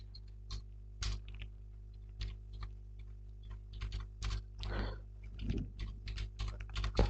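Computer keyboard keys being typed on in Tally ERP 9 accounting software: irregular bursts of close clicks and clacks with short pauses, over a steady low hum.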